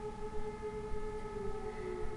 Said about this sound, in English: I don't know what siren this is